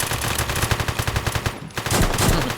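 Rapid automatic gunfire during a jewellery store robbery in a video game, loud and close, with a brief gap before the bursts resume.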